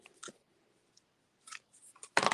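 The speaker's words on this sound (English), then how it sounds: "So I'm just going to come in and cut that with my ribbon scissors." Ribbon scissors cut through ribbon while a thank-you card is being crafted: a few short, crisp snips close by, separated by quiet pauses and ending in a louder, fuller cut.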